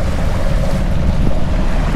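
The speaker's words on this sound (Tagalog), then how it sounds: "Medyo lumalakas yung alon" Strengthening waves wash onto an island beach with golden white sand and pebbles, a loud, constant roar of surf mixed with wind buffeting the microphone and a low rumble, no voices.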